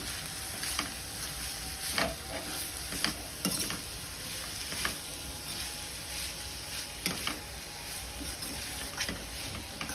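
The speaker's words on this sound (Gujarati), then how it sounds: "બે થી 3 મિનિટ માટે આને આપણે મિક્સ કરતા રહીશું।" Grated capsicum and vegetables for veg momo filling stirred in a pan, with a steady sizzling frying hiss and repeated scraping spoon strokes at an irregular rhythm, close and moderately loud, no talking.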